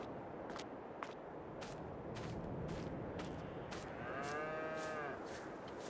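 Cows mooing in Farming Simulator 22 on the Oberschwaben farm map: a long, drawn-out bovine moo swells and bends near the end, over a steady farmyard ambience with scattered short clicks.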